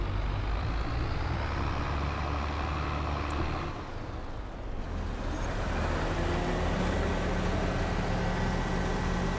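In a Farming Simulator 22 game, a combine harvester unloads barley into a grain trailer. A loud, steady engine drone with an auger hum runs throughout, with a brief dip midway and no voices.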